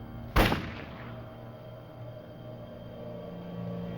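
A single sharp gunshot from a woman's new gun in a home at night, a loud close crack followed by a short decaying tail and a quiet low hum.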